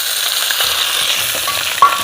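Fried fish is added to a sizzling masala in a pan, producing a continuous loud hiss with a brief clatter near the end, with no voices.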